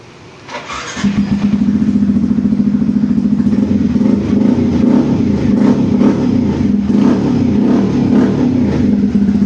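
A Yamaha MT-15 motorcycle, prone to stalling when wet, cranks briefly and fires, then settles into a loud, steady, close-up idle with a rapid even pulse and slight swells in pitch.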